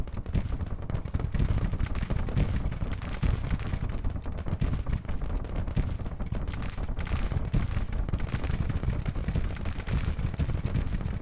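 Gatling gun and rifle volleys crackle nonstop across a Civil War battlefield in the Grand Tactician strategy game, a dense mix of overlapping gunshots and low booms under a few faint high chimes.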